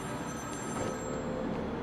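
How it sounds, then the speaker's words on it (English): A phone ringing in the video game Batman Arkham City, a quiet electronic ring under a low steady game background hum, brief and without talk. "Oh no, ringing phone!"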